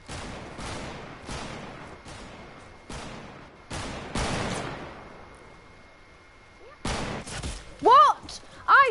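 Gunfire in Fortnite: a series of sharp, evenly spaced shots rings out, then a short quiet stretch and a few more blasts. A player's voice breaks in loudly near the end.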